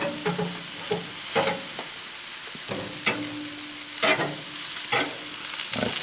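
Burgers sizzling on a charcoal grill as they are flipped, a steady crackling fry broken by repeated scraping clatters of the spatula turning the patties.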